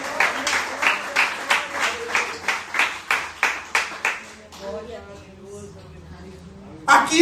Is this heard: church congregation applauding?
yes